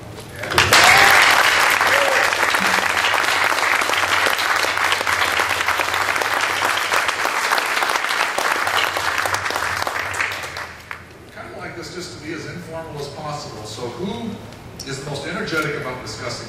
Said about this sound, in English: let us celebrate Ken Krueger with a big round of applause